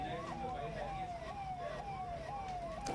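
A fire engine siren wails in a repeating rising-falling pattern at the Hotel Levana fire in Hazratganj, Lucknow, loud and continuous over a rumbling background of traffic and scene noise.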